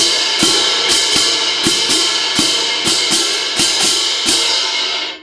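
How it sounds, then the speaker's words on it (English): Crash cymbals struck repeatedly with two slightly offset contact points, about a dozen bright, washy hits at an even pace, each blooming into a sustained shimmer and ringing out alone. "We want to have the crash cymbals slightly offset from each other and 2 points of contact."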